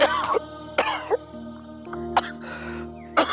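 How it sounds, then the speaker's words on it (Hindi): Several harsh coughs and throat-clearing bursts from a man with a worsening cough at home, spaced unevenly across the moment, close and fairly loud. "तुम्हारी खांसी बहुत बढ़ गई है"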